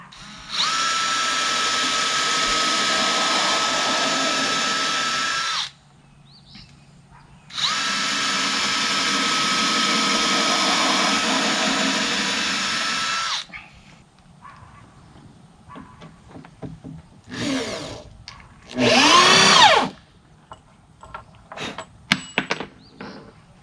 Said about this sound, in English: So we're ready to put a couple screws in there to hold it together.